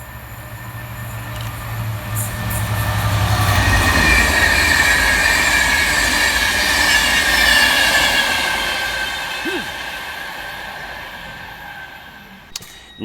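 Class 67 diesel locomotive 67013 runs southbound hauling empty coaching stock for Transport for Wales, swelling from a low engine drone to a loud rushing roar of wheels and rails before fading away.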